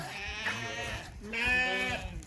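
Sheep and goats bleat at a nomadic herders' camp in the Turkish mountains, two long wavering calls close by, one after the other, over a soft outdoor background.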